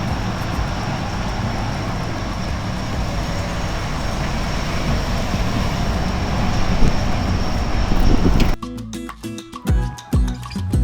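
An airplane flies near Songshan Airport in Taipei, a loud continuous engine roar that swells and then drops away abruptly near the end, with no voices.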